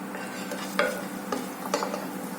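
Cumin seeds frying in hot oil and ghee in a pan. A soft, steady sizzle runs throughout, and a few faint stirring scrapes cut through it.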